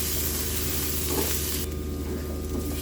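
Pumpkin peel mixture for a Bengali bharta cooks down in a pan, giving a soft continuous sizzle with faint stirring scrapes, fairly quiet and with no talking.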